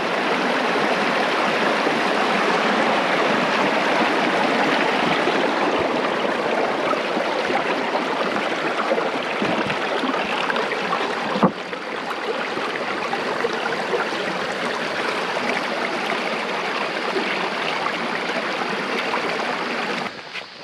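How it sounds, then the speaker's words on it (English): Rainwater rushes steadily through rocks and along a roadside ditch, a continuous broad wash of running water heard close, with one brief knock partway through. "most of this water is all running underneath the rocks, through the rocks, and there's a fair amount coming through the ditch there"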